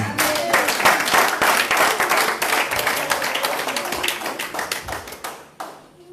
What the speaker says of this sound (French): Est-ce qu'on peut acclamer d'abord pour le Seigneur?